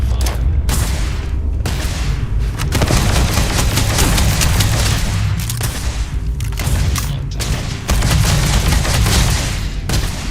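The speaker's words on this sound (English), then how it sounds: "I am opening fire." Video game gunfire with pirates, zealots and robots: sustained bursts of rapid shots and booms, loud and close, broken by short gaps, without talk.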